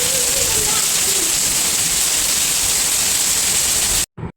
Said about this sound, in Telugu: ఇగ వర్షమొస్తుంది